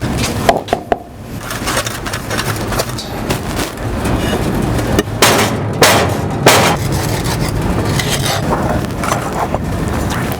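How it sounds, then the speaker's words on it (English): Sand is packed by hand into a mold for casting an engine flywheel, producing repeated close scraping, rubbing and thumping bursts that are loud and irregular throughout, with no talk. "we're going to pack some sand in here to create the negative"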